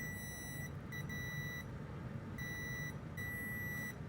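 Multimeter set to continuity mode beeping while probing a short on an RTX 4090 Founders Edition graphics card, several steady high-pitched tones in separate stretches, close and clear over a constant broad background hiss.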